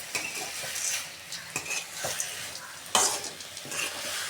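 Mint leaves sauté in a pan for pudina chutney, with a soft frying sizzle under repeated spatula stirs and scrapes and occasional sharper clinks against the pan.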